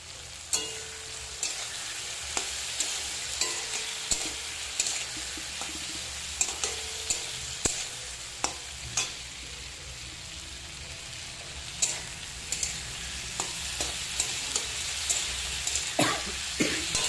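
Garlic and green peas frying in a pan for a winter vegetable dalia, a continuous close sizzle broken by regular spatula scrapes roughly every second.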